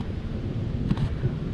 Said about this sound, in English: It got very windy.